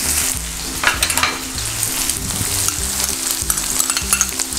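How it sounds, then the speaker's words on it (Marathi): Pounded garlic spice mixture and chopped onion sizzle in a hot pan for spicy baingan bharta, a steady loud frying hiss with stirring scrapes throughout and no talk. "जे कुटलं होतं ते मिश्रण घालूया, मिक्स करूया।"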